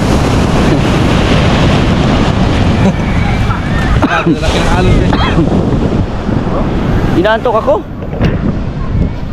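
Sea waves wash and surge close by, mixed with heavy wind buffeting the microphone and brief faint sounds over the steady roar.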